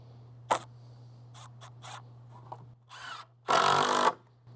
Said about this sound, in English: So I'm going to put one more screw in down here.